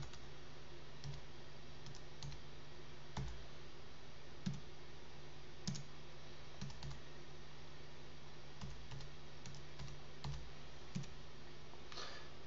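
Quiet keystrokes on a computer keyboard tap out a password in short, irregular bursts, close but faint over a low steady hum.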